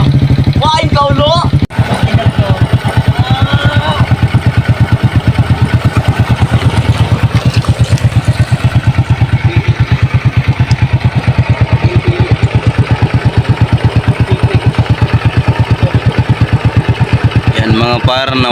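A Honda XRM 125 motorcycle, just repaired after a loud ticking engine noise, runs close and loud with a steady, fast, even idle pulse for the whole stretch. Brief voices come at the start and end.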